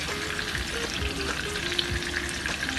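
Mince veggie cutlets sizzle steadily in a hot pan as they are turned one by one, with soft scraping and tapping sounds over the constant frying hiss.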